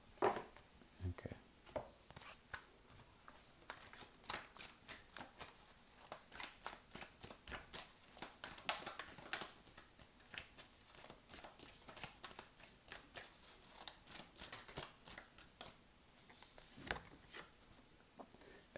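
Moonology Oracle cards shuffled in the hands, a quick run of crisp riffling flicks and soft rubs repeating steadily close to the mic, with no talk over them.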